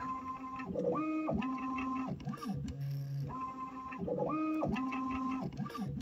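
A cartridge filling machine adjusting and shaking, giving a repeating cycle of whirring motor tones and buzzing steps that rise and fall in a regular pattern, heard close with no talking.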